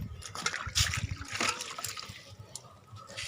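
A ripe, tree-ripened papaya being washed under water, with splashing, trickling and brief splatters close by, alone and fairly quiet.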